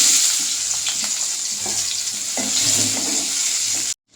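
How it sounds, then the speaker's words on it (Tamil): Chopped onions sauteing in hot oil with mustard seeds in a pan for a Tamil drumstick masala, a steady close sizzle with light stirring scrapes throughout, cut off abruptly near the end. "இப்போ வெங்காயம் போட்டு வதக்கிக்கலாம்."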